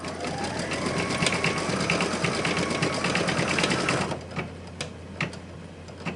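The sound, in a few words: embroidery machine sewing a design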